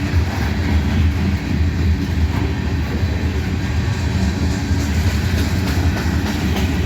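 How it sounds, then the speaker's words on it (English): Train rumbling along railroad tracks near Abbeville with a switcher nearby, a steady, dense low rumble and rolling wheel noise holding at constant loudness for the full span, with no voices. "And we got a train over there on the side."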